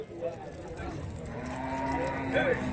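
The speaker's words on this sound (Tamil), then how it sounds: "ஜோடி பொட்டை மாடு" Cattle lowing at the Bagalur cow market near Hosur, a steady crowd murmur with a couple of moos rising near the end over the continuous background.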